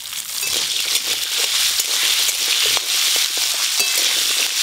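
Sliced onions and whole garam masala fry in hot oil in a pan, giving a loud, dense sizzle with crackling pops throughout and a few stirring scrapes, up close and with no voices.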